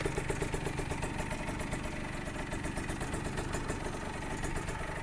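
A small Honda NSR 50 motorcycle engine runs steadily close by, a fast, buzzing two-stroke putter with a rapid regular pulse and some mechanical clatter, with no talk over it.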